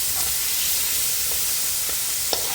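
Haitian épices, a mixed-vegetable seasoning, stirred into a hot frying pan, giving a steady close sizzle and hiss with a few faint scraping stirs throughout.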